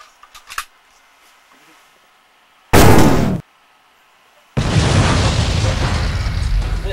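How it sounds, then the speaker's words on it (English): A missile launcher fires a short, loud blast, followed after a pause by a sustained roaring explosion. Faint clicks come first, then the launch burst, brief quiet, and a long, dense, crackling rumble. "Here's a new missile launcher we've been trying out."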